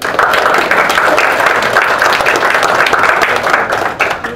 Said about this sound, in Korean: 우리 감사의 박수 한번 쳐주십시오.